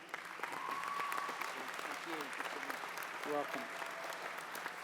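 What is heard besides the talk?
audience applause for Dr. Bruce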